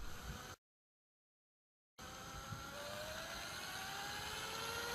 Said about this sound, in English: I'm going to spin this up to a few thousand RPM